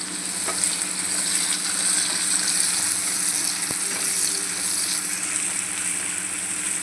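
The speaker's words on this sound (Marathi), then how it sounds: "लसूण चांगलं हे झालं की आपण कांदा घालूया." Garlic and onion fry in hot oil in a home kitchen pan for a potato and soybean curry, a steady, close, even sizzle running without pause, with one brief clink partway through.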